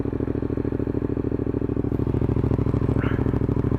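Yamaha MT-07 motorcycle fitted with an IXRace exhaust idling close by, a loud, steady, rapid throbbing beat with a deep low rumble that stays even throughout.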